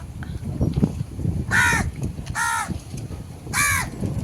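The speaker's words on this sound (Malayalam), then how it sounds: "എന്നാടാ ഭയങ്കര കരച്ചില ഉച്ചയ്ക്കൊന്നും തിന്നില്ലേ കാക്ക" A crow caws loudly three times at close range, the harsh calls spaced apart over faint background rustle.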